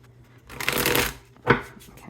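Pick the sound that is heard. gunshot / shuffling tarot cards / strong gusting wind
shuffling tarot cards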